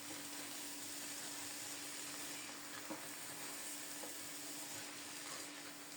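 Fragrant pulao rice is stirred and roasted in a pan, giving a faint, steady sizzle and hiss that runs throughout, with a few soft scraping touches of the stirring spoon.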